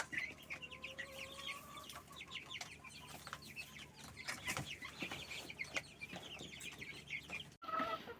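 Hens in a henhouse clucking repeatedly, several birds overlapping in soft, irregular calls with sharper squawks, fairly close, with a brief dropout near the end.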